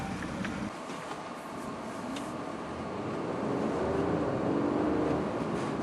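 A 2009 Audi A4 3.2 Premium Plus drives slowly around a lot on a short test drive, its engine and road noise a steady low rumble that swells slightly as it accelerates, with no talk.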